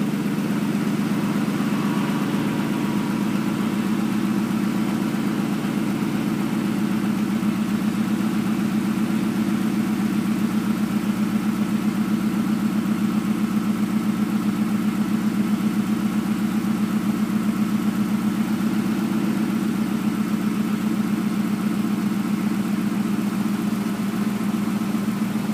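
A 1997 Ford F-150 with the 4.6 engine idles steadily and close, a smooth, even low rumble that stays constant and loud throughout with no revving or talk.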